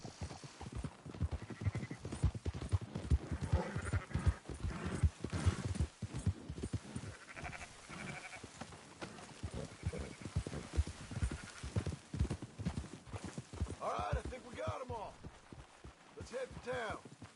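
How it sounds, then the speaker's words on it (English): Horse hooves clip-clop steadily while a rider herds sheep on horseback in the video game Red Dead Redemption 2, a continuous close gait with an occasional whinny and some voices at times. "Marston, why don't you leave the sheep to me?"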